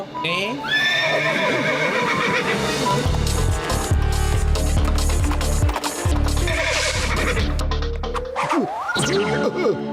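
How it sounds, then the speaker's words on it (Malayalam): White horse in a cartoon giving loud, shrill whinnies that rise and fall, with clip-clop and busy cartoon sound around them and voices speaking. "ദേ വെള്ളക്കുതിരയും വന്നിരിക്കുന്നു"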